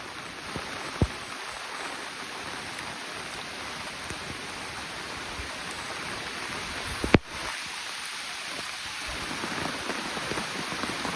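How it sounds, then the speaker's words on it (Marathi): Heavy rain pours steadily in a dense, unbroken hiss, with a couple of sharp drips or knocks standing out near the microphone. "कारण पाऊस खूप जोरात आलाय."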